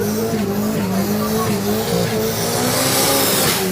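A turbocharged Lotus 7 look-alike races past at a drag day, its loud engine revving hard with shifting pitch and tyre noise, close and continuous throughout, under crowd and commentary sounds.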